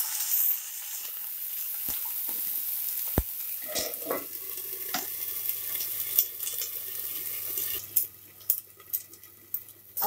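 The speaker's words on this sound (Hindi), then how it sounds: "अदरक का पेस्ट ज्यादा छिटकता है, इसलिए हम इसमें थोड़ा सा पानी दे देंगे तो ज्यादा छिटक के नहीं आए।" Ginger paste frying in a pan gives a steady close sizzle, broken by sharp splashy bursts as water is poured in and stirred, with the hiss flaring louder toward the end.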